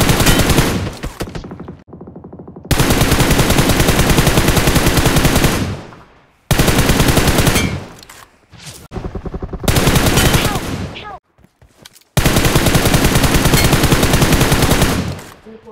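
Machine gun fire in a battle royale video game, loud sustained bursts of rapid automatic shots separated by brief pauses, repeated several times, with a faint voice in the gaps.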